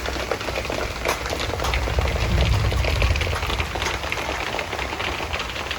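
Heavy rain falling at night in Cepu, a dense, steady hiss with scattered patter, loud and continuous throughout, with a low rumble swelling underneath partway through.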